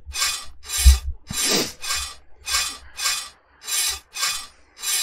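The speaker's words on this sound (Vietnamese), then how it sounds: "Chỉ một thoáng thôi là chúng ta đã cưa xong cái ổ khóa rồi." A saw cutting through a padlock in the horror game Stay Still makes eight evenly spaced rasping strokes, close and steady, with a few faint metallic clinks mixed in.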